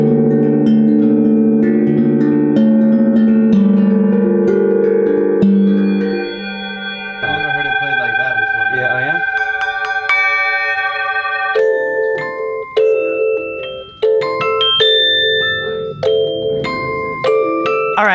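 A large, costly gong played by hand, sustained shimmering tones layering and swelling, with repeated strikes building dense overlapping ringing that changes pitch partway through; loud and close, no talk.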